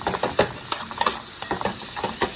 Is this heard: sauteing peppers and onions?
yes